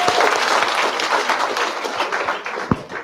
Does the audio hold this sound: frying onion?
no